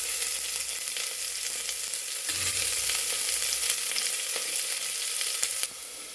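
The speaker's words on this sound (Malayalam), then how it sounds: "ഇതിലേക്ക് ഇഞ്ചി, വെളുത്തുള്ളി, പച്ചമുളക് ചതച്ചതിടുക. അത് മൂത്തിട്ട് അതിലേക്ക് സവോള ഇടുക." Crushed ginger, garlic and green chilli sizzle steadily in hot oil for an egg curry, a close, even frying hiss with a soft stirring clunk partway through.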